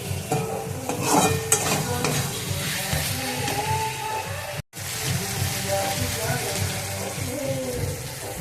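Potatoes frying with spices in a pan for a Bengali mochar ghonto, stirred steadily; a continuous close sizzle with scraping spatula strokes, briefly cut by a moment of silence midway.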